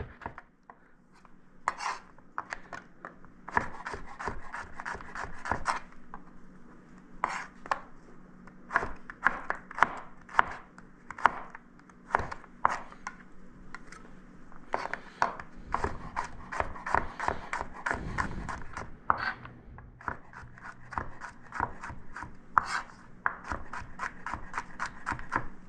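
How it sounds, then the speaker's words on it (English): A kitchen knife cuts vegetables into fine julienne strips on a board, making quiet, quick tapping clicks in repeated bursts with short pauses between them. "The julienne is just nice strips, fine strips."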